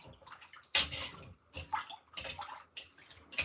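Boiled chickpeas in a pot are stirred in short, wet sloshing strokes, four or five bursts of watery churning separated by brief pauses, close and clear.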